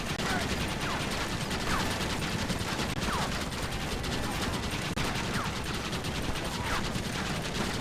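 Gunfire in the Red Dead Redemption video game comes as dense, rapid volleys of shots over a constant noisy backdrop, with some talk mixed in.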